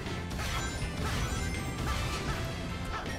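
A smash hit in the Sonic Generations video game, a dense, loud crashing impact that fills the whole moment with continuous broadband noise.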